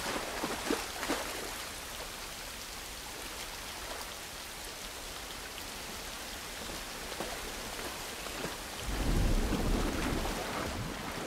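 Steady rain with rumbling thunder in the video game The Last of Us, a continuous hiss of falling rain with a deep roll of thunder swelling near the end.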